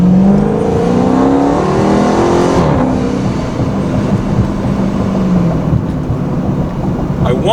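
Procharged Dodge Challenger Scat Pack accelerating hard in track mode, a loud, steady supercharged engine roar with rising harmonic sweeps as it pulls through the gears, close and continuous throughout.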